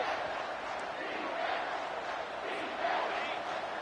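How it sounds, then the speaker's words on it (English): Home crowd roaring in a college football video game, Virginia Tech vs Michigan, on a third-down defensive stand; a steady, loud, dense wash of cheering that swells slightly near the end. "Here comes this home crowd as the defense tries to get off the field on 3rd down."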